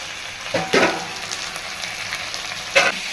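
Tomatoes and a chopped green chili sizzle and fry in a pan, a steady crackle broken by a few louder stirring scrapes.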